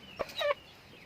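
A chicken sick with fowlpox gives a couple of short clucks close by, a quick sharp note followed by a longer warbling cluck, then quiet.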